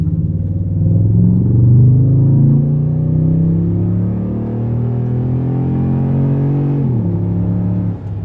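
A 2019 Toyota Tundra TRD Pro CrewMax engine accelerating out of a U-turn, a loud, close, deep rumbling growl that swells as it revs and holds steady, then drops briefly near the end as the gear shifts.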